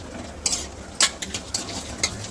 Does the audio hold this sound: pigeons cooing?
no